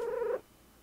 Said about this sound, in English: That's a sleepy cat,